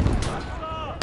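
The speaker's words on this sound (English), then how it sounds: "Heavy mortar." Heavy mortar fire in a World War II German conquest strategy game, Operation Zitadelle: a loud booming blast with a rumbling tail, then another sharp impact at the end, with a voice in the mix.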